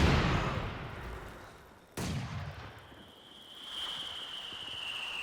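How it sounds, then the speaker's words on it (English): Mortar fire in Company of Heroes 2 during a 2v2 battle near a trench: a heavy blast decays, then a sharp second launch thump cuts in, followed by a rising whistle of the shell in flight. "Mortar working nicely against the trench"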